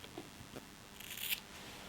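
Scissors snipping hair to cut a fringe, a few soft, quiet close-up cuts over a low background hiss, with no talking.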